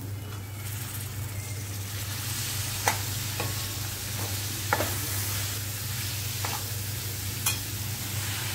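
Ghevada (flat beans) tossed into a hot pan with mix masala and stirred for a bhaji, a steady sizzle running throughout with a constant low hum beneath and a few sharp scrapes of the spoon.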